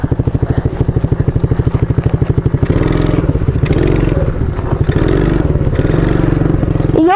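An MRF 80cc motorcycle engine idling with a rapid, even thumping pulse, then revved into a rougher, louder drone that rises and falls, close and dominant throughout.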